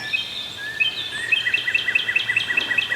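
Wild turkeys call across a Wisconsin valley: a fairly distant, repeated run of sharp yelping notes that speeds into a steady rhythmic series, heard in the open outdoors with no talking.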